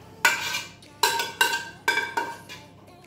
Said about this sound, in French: Et là, on va verser les échalotes